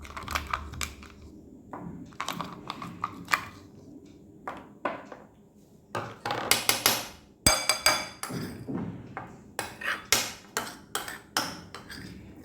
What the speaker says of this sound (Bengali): এবার আইস কিউবগুলো আমি এই মিল্কের মধ্যে মিশিয়ে দেবো।